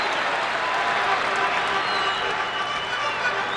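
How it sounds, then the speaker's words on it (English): An arena crowd at an NBA basketball game between the Chicago Bulls and Cleveland Cavaliers applauds in a dense, continuous roar of clapping and cheering, loud and sustained throughout. "And the arena crowd appreciative of the Cavalier commitment"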